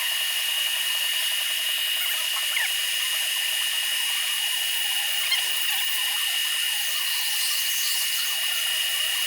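A cutting tool machines a Volkswagen T5 Transporter 2.5 cylinder head where it was TIG-welded, giving a steady, loud, high-pitched grinding whine that holds unbroken throughout.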